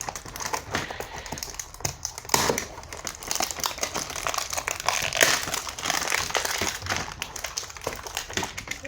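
Crinkly plastic shopper wrapping is pulled off a cheap Club 106 mobile phone box, with continuous close crackling and rustling and a few sharper crinkles throughout.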